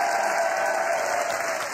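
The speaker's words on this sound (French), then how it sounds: "on a Laurent, notre producteur et DJ, qui envoie les applaudissements chaque soir" Recorded applause sent out by a producer and DJ on a game show with no live audience, a steady wash of clapping with no break.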